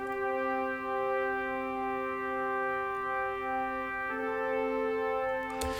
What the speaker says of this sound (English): Now have a listen to this Full Brass Plus